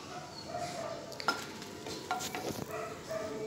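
Dried red chillies roasting in a pan for idli podi, a soft steady sizzle with occasional scrapes and stirring knocks, close-up and fairly quiet with no voices.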